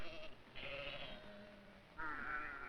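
Sheep kept by Navajo herders bleat twice at a distance on an old, hissy documentary recording, each baa faint and drawn out, with no speech.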